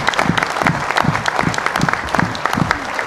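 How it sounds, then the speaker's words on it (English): Audience at a town special study session meeting applauding together, a dense, steady round of clapping that holds for about three seconds with no talking over it. "I would like to break my rule now and give a good round of applause for all of our speakers."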